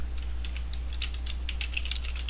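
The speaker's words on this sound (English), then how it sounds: "I love that I can hear Felix typing away" Rapid typing on a computer keyboard, a steady patter of light key clicks running throughout under a constant low electrical hum, with no voices.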